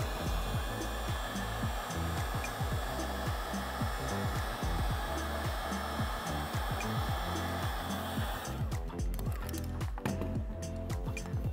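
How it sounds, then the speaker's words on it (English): A heat gun blows a steady, loud roar for several seconds while shrinking heat shrink tubing over a spliced low voltage wire joint, then cuts off abruptly near the end, leaving clicks and handling noise. "Hit it with the heat gun."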